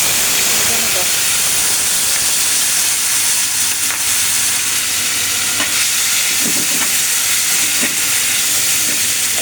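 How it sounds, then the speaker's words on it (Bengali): Potatoes fry in oil in a frying pan, a loud, constant sizzle and hiss close up, with occasional stirring clinks and scrapes breaking through the steady crackle. "এবার এই ফ্রাই প্যানের একই তেলে আমি এই আলুগুলো ভেজে নেব।"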